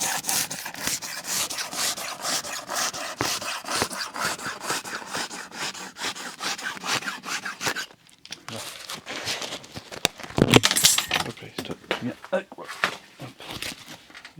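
Adhesive tape is rubbed and pressed onto the joint of a hobby RC model airplane under construction, a steady scratchy rustling close up that breaks off briefly before a louder crinkle.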